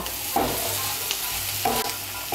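Masala being stir-fried with taro and coriander leaves in a pan, an even sizzle with two distinct scraping stirs, close and moderately loud.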